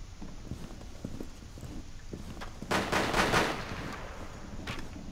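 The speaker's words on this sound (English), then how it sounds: "Shots fired." Gunfire in Rainbow Six Siege crackles as a quick burst of shots in the middle of the clip, set against constant game ambience and rhythmic thumping, with steady background noise throughout.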